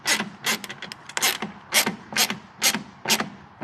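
A ratchet wrench clicks in repeated short bursts while tightening 13 mm air bag suspension fittings during a towing suspension upgrade, with close, loud ratcheting strokes and no talk.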